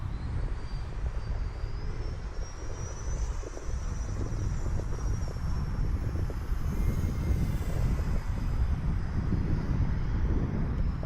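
An RC F4U Corsair model airplane on its maiden flight, a steady buzzing electric motor whine heard from a distance over rumbling microphone wind, continuous throughout.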